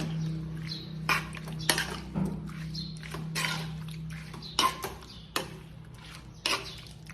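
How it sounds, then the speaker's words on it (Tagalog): Pork adobo stirred in a pot with a utensil: faint, scattered clinks and scrapes of metal against the pot at irregular intervals over a low steady hum, no talking. "Tapos ay haluin natin."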